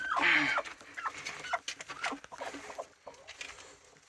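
A hen clucks in short, soft, irregular bursts close by as chukar partridge eggs are placed under her, with faint rustling between the calls and no talk over them.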